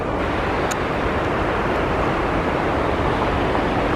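A waterfall in the Hautes-Alpes mountains, heard as a steady, loud, broadband rushing roar of falling water with no breaks, close by on a hiking trail.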